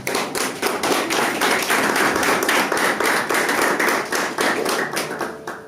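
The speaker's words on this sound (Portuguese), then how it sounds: "aplauda ao Senhor" A church congregation at a Sunday service applauding together, a close, loud stretch of rapid, crisp hand claps that carries on steadily for several seconds before tapering off.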